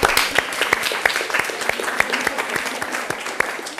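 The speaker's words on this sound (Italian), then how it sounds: "Ti faccio l'applauso anch'io, partiamo insieme perché è la risposta corretta" Brief burst of clapping on a television quiz show after a contestant gives the correct answer, dense and even with a few sharper nearby claps standing out.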